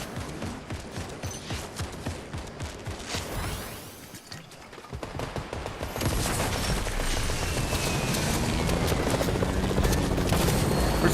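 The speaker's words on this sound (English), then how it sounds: "Where's the firing coming from?" Video game gunfire rings out in rapid bursts of sharp, close shots for the first few seconds. A brief lull follows, then a steady, loud mechanical roar like a helicopter takes over, with no one talking.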